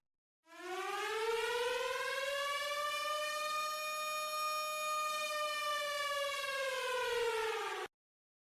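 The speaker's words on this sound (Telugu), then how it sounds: "ఫస్ట్ జరిగేది ఎయిర్ రైడ్ సైరన్స్ మోగుతాయి అండ్ వినడానికి ఇలా ఉంటాయి" An air raid siren winds up into a single long, steady wail that holds for about seven seconds and then cuts off abruptly, sounding alone with no other noise.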